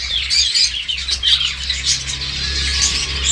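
Dense, loud chorus of caged birds chirping and tweeting in a bird shop selling long-tails and Java sparrows, overlapping calls close by over a low background hum.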